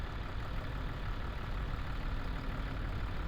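Tractor engine idling in the farming game Farming Simulator 25, giving a steady, rough low rumble that stays even throughout, close and fairly loud, with no talking.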